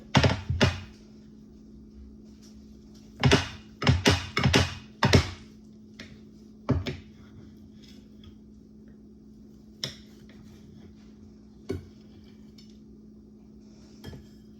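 A knife slices through a custardy apple cake on a plate, giving a handful of sharp clicks and scrapes in short bursts, then a few isolated taps against quiet background.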